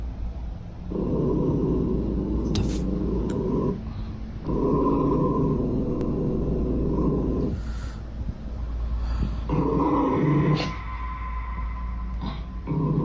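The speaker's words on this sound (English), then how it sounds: "grandmother's dog starts to growl toward" A grandmother's dog gives a steady low growl in a house. It comes in long, sustained rumbling bursts with short pauses between them, and the growl is loud and close.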